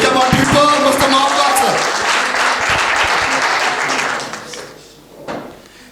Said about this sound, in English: Let's give a bit of round of applause